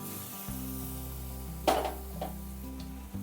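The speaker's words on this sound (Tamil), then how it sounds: "இப்படி மிக்ஸ் பண்ணி ஃப்ரை பண்ணணும்" Bread slices frying in a pan for a simple bread fry toast snack: a low, steady sizzle with a couple of sharper sputtering bursts midway, quiet and close, no voices.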